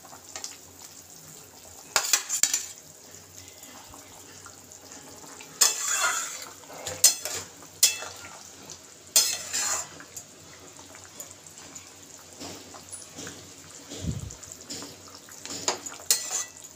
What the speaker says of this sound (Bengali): ভাজা বেগুনগুলো দিয়ে দেবো।